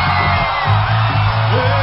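A festival concert crowd at Acafest 2003 whoops, yells and applauds for a guest singer, loud close cheering layered over a low steady hum from the stage.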